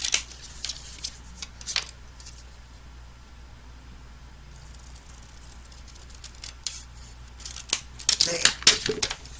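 Scissors snipping through paper card to trim off a narrow border, a few crisp cuts and rustles up close over a steady background hum, with a louder cluster of snips and handling near the end.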